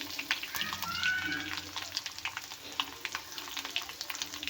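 Garlic hits hot oil already holding mustard seeds and red chillies, giving a steady close sizzle with scattered crackles and pops as it fries.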